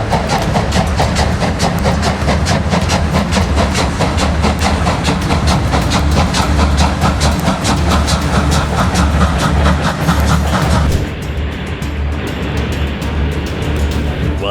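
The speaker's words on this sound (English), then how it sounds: "This steam train really lived up to its name." A steam train belches heavy clouds of steam, a loud, steady rumble and hiss that holds for about eleven seconds before dropping to a softer, thinner rush.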